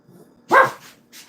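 A puppy gives a single sharp bark at close range in a home kitchen, followed by a softer trailing yip, with quiet room tone around it.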